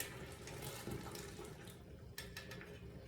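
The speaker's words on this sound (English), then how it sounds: "so I'm just pouring the water back into the stock pot." Water is poured from a pan back into a metal stock pot while canning muscadine jelly, a faint continuous splashing and trickling stream with a small clunk near the end.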